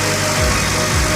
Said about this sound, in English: Now it idles smoothly.